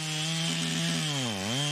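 A chainsaw cuts firewood at a beach campsite, its engine droning steadily and loudly, then dipping in pitch as the chain bogs down in the wood before recovering.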